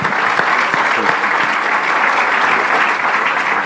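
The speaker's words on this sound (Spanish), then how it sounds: "les pido un aplauso también para Gustavo González" An audience at a business breakfast event in Chile gives sustained, dense applause for the general manager of IST, a steady wash of many hands clapping at close range with no break.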